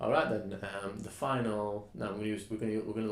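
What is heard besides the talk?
No distinct noise like a dog, phone or traffic.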